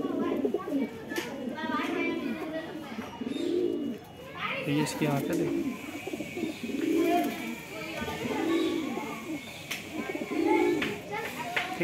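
Pigeons at a bird sale coo in repeated soft, throaty rolling phrases, close and rhythmic, while people talk nearby and children's voices sound in the background.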